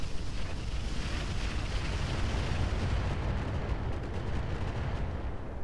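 Heavy weapons fire from battle mechs in RogueTech BattleTech rumbles as a dense, continuous roar of explosive booms, loud and low, sustained without pauses and with no talking.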